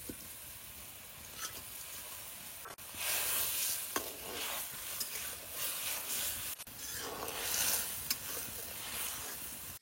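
Raw fish and green chilies go into a simmering sour fruit curry and are stirred in a pan. A soft, constant sizzle of liquid plays under scraping stirs and a few sharp clinks of the spoon against the pan.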